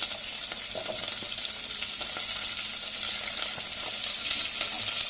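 Onions sizzle and crackle as they fry in hot oil in a pan for a drumstick-leaf stir-fry, a steady dense hiss with occasional stirring scrapes and no talk.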